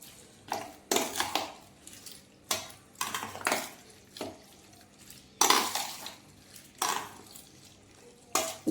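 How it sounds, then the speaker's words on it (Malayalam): Spoon scraping and clattering against a pot as vadukapuli lime pickle is stirred into sesame oil, with separate strokes at irregular intervals and quiet gaps between them. "ഇനി ഇത് നന്നായിട്ട് ഇളക്കി കൊടുക്കുക"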